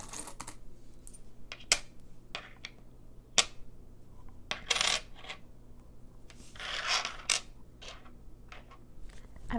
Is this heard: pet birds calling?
no